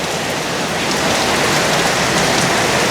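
Heavy rain pours down hard and steady, a loud, dense, unbroken hiss of water hitting surfaces that fills the whole scene with no voices.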